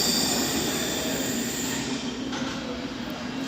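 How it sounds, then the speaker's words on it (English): A noisy train at a London station at night gives a loud, steady rumble with high wheel squeal running throughout, no one speaking over it. "Noisy train, I'll tell you, very noisy."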